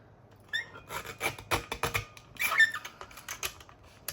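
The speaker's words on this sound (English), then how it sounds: "where's my teeny tiny little guillotine, and I'm just going to trim off the tiniest teeny tiny slither" A small paper guillotine trims a thin sliver of paper for card making, giving a quick run of light, close scraping clicks and a soft slicing rasp.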